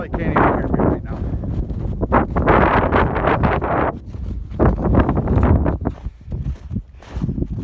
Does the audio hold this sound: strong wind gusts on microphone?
yes